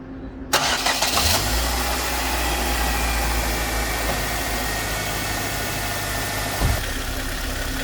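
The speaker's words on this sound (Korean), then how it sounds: "물이 더 들어가지 않을 정도로 채워주신 다음에 시동을 한번 걸어 보도록 하겠습니다" A Hyundai Starex camper van engine cranks and catches after a brief quiet start, then settles into a steady, close idle during a coolant change, with a sharp knock near the end.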